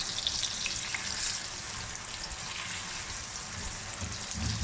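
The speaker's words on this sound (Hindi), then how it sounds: "ये मैं प्याज को ब्राउन थोड़ा सा पकाने, कलर चेंज होने तक पका रहा हूँ" Onions sizzle steadily in a pan while browning, a constant close, hissing fry with faint stirring underneath and no voices.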